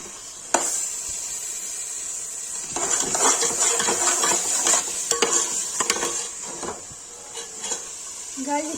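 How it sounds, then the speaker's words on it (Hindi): Ground tomato and garam masala frying in a kadhai for chicken, with repeated spoon scrapes and clinks against the metal over a constant sizzle, loud and close, busiest in the middle and no talking. "गाइस देखिए मसाला भून लिया"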